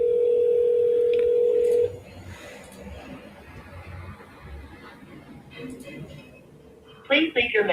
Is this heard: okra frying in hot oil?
no